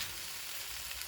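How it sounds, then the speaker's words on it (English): Rice fries in a pan being turned with other ingredients, giving a dense, steady hiss and sizzle of hot oil, close and continuous for a brief moment with no voices. "Just keep turning all the ingredients so nothing gets burned. The rice gets fried."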